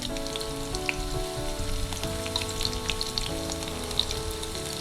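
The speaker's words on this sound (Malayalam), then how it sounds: "കടുക് പൊട്ടിയിട്ടുള്ള ഇതിലേക്ക് അഞ്ച് പീസ് ഉള്ളി കുഞ്ഞായിട്ട് അരിഞ്ഞത് ചേർത്തു" Finely chopped onions frying in hot oil with mustard seeds already popped, for a dal curry: a steady, close, even sizzle with faint crackles scattered through it.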